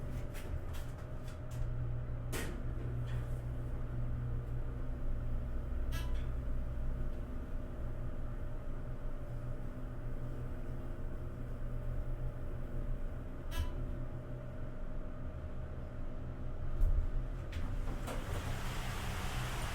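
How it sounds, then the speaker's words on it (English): A low, steady motor hum from a 1980s Dover glass elevator drones under quiet ambient noise, with a few brief clicks and knocks scattered throughout and no talking. "Let's listen to the motor and look out the window."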